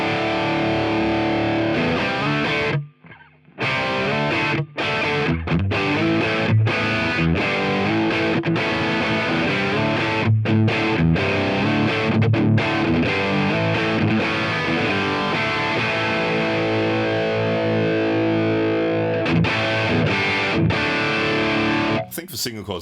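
Distorted electric guitar, likely single-coil pickups, played through a ToneX capture of an Orange amp from the Hyde Street Amp Locker collection, with loud crunchy chords and short stops between strummed phrases throughout.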